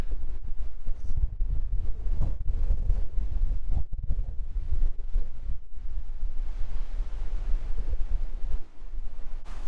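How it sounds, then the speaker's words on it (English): Strong wind blows straight into the microphone on an outdoor mountain hike, a loud, continuous low rumble with gusty buffeting and no voices. "I've just hidden behind this rock so I could try and talk to you without the wind noise ruining the microphone"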